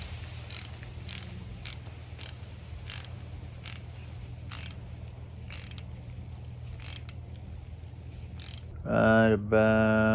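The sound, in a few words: tightening down a Honda Civic engine part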